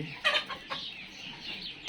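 Tiger breed chickens, 49 days old, cluck close by: two sharp clucks early on, then softer, scattered clucking with no talk.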